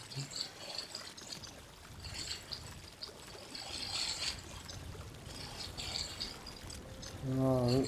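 Flowing water in the open-world game Wilderless, a soft trickling and pouring stream heard faintly and continuously, with a brief rising electronic tone right at the end.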